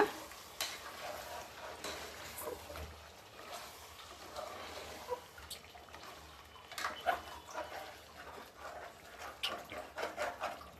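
Ground masala is stirred into chicken in a pan with scraping spoon strokes and soft wet clatter, low and uneven, close but quiet, with no talk.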